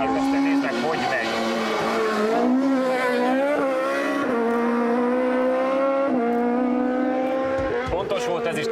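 Renault rally car, a Clio Sport or Twingo RX S1600, screaming past at speed on a stage, heard from outside: a loud, high revving engine rising and falling through gear changes for several seconds, close and continuous.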